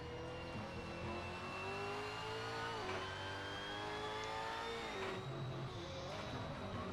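Onboard sound of a Supercars race car on a qualifying outlap across a mountain circuit: a steady, loud engine drone climbs and shifts pitch through gear changes, continuous and close, with no talking.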